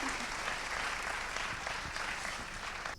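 Loud, dense applause from an audience at a conference session, sustained and even for about three seconds before cutting off.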